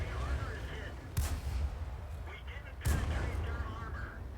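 Tank guns firing in a tank battle video game, two sharp booming shots about 1.7 seconds apart over constant engine rumble, with a voice talking in the background.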